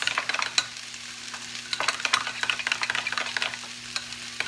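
Utensil stirring a thick vegan breakfast burrito sauce made with veganaise and sriracha, giving repeated scraping and clicking strokes in an uneven rhythm over a steady low hum, close and fairly loud with no talking.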